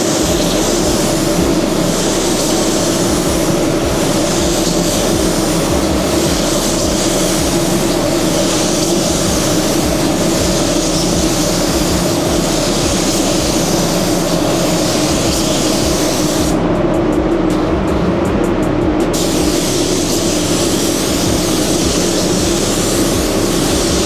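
A spray gun lays an orientation coat of Alpha Automotive paint across car panels, including the hood: a steady, close, continuous hiss that runs unbroken throughout, with one brief sharper burst partway through.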